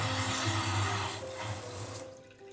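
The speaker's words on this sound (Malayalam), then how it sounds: "ഇവിടെ ഇത് വെള്ളം ഇങ്ങനെ വരുന്നു" Water runs steadily from a modern wash basin tap in a luxury home in Kozhikode, a soft, close stream that fades toward the end.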